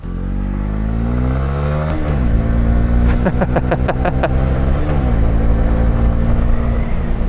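A Honda CB125R motorcycle engine runs loud and close, a steady low rumble with a burst of revving and rising, falling pitch mid-clip before settling back to idle.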